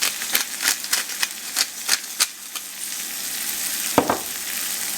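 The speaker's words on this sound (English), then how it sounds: "we're just going to cook the onions until they're nice and tender" Onions sizzle and fry in a pan with salt and pepper, a steady crackling hiss broken by sharp louder pops and spatters, close and continuous with no talking.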